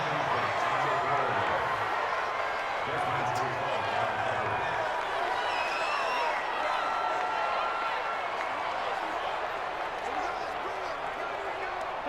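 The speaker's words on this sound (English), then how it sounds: "The crowd getting into it as we come up on a big third down" Simulated crowd noise in a Detroit Lions vs Green Bay Packers football video game, a steady stadium roar and cheering that keeps going throughout under a commentator's voice.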